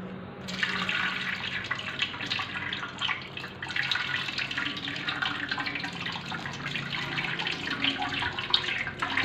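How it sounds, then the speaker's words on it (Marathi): Wheat starch pulp washed in clean water, a continuous near splashing and trickling of water with sloshing as it is worked by hand, no talk. "हा चिक परत एकदा स्वच्छ पाण्याने धुवून परत तो गाळून घ्यायचा आहे"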